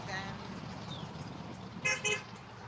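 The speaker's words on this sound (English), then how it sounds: "I got a honk, guys!" Two quick honks from a car horn on a street during an outdoor protest, the second following close behind the first, heard under steady traffic noise.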